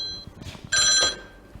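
A telephone rings with a brief electronic trill, one short burst after a faint earlier chirp, clear and close in a quiet room.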